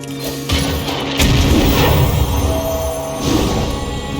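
A cannon fires in the video game Hearthstone: a loud booming crash that swells suddenly and rumbles on, with a second smaller surge near the end.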